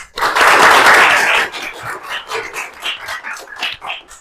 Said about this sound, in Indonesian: Tepuk tangan buat masnya.